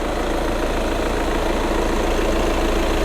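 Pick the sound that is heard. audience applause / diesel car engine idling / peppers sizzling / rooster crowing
diesel car engine idling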